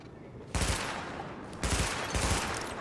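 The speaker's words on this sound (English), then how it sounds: "Open fire at the highlighted targets." Bursts of gunfire at a weapon-testing range in The Division video game, a loud volley starting after a brief quiet lead-in, then two more heavy bursts in quick succession, close and punchy.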